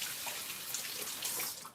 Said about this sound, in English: I'm gonna wash my hands again, making sure everything's nice and clean.